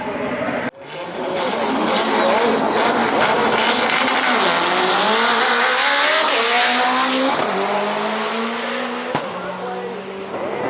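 Cars in the banger class of a quarter-mile street drag race, front-wheel drive against rear-wheel drive, launch with a loud roar and wail up through the gears, engines rising and dropping with each shift, close and sustained until easing near the end.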